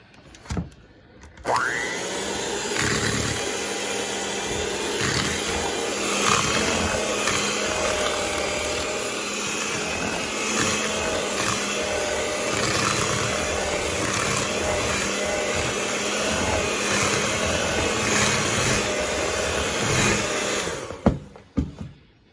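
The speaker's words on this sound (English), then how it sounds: "I'm gonna mix those until they're creamed together." An electric mixer creams sugar, sour cream and butter together in a bowl for pound cake batter, a loud, steady whirring drone that starts after a brief pause and runs continuously for about twenty seconds before cutting off.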